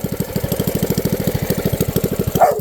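A mini bike's small engine idles after the throttle is released, a loud, close, even chug of rapid regular firing pulses that fades and breaks off at the end.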